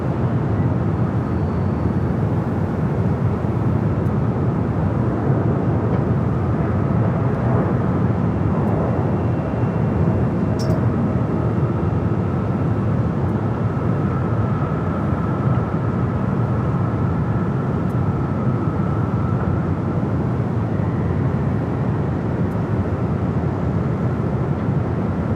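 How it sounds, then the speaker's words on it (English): A new United Airlines Boeing 787-9 Dreamliner rolls down runway 25 at LAX with a loud, constant broadband engine roar that stays steady throughout. "a brand new 787-9 Dreamliner just delivered in July of last year to United. Now rolling down at 25 right back on the south side."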